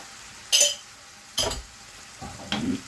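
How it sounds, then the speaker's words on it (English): A spoon stirs tomato and basil sauce in a pan, four distinct scraping, clattering strokes spaced about a second apart over a low background sizzle, close and clear, with no talking. "I'm just going to get this mixed in"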